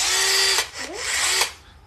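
A tiny Bosch Nano Blade mini chainsaw runs close up with a high buzzing whine, revving in two bursts with a brief dip between, then winding down.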